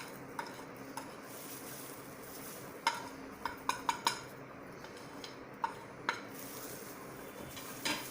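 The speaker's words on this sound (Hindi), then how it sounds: "इसको अच्छी तरह मिला लीजिए स्पून से।" A spoon stirs a cornflour and maida batter with salt for veg lollipops, giving a soft wet swishing bed broken by a handful of sharp clicks and taps against the bowl, close and fairly quiet.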